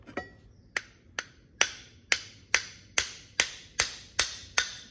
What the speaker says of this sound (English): Let's just try some light taps first.